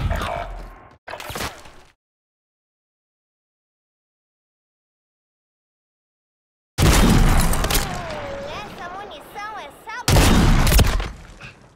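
Gunfire in the shooter Warzone 3, with bursts of loud shots and impacts near the start, then a long silent gap, and dense combat noise with voices and tonal effects returning near the end.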